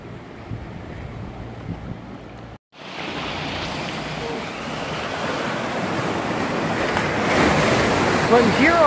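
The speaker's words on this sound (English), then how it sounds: "So I'm here on that little beach that I kayaked out to." Surf washing onto a small beach at Koh Phi Phi, Thailand, a steady broad rush of waves that grows louder toward the end, with wind buffeting the microphone and a brief cut early on.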